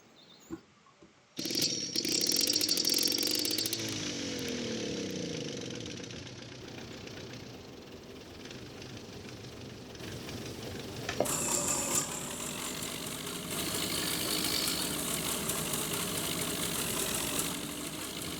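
A tractor engine in the Farming Simulator 17 game idles and labors in a rough, steady hum, fairly faint throughout, with a brief surge partway as the machine maneuvers and no speech.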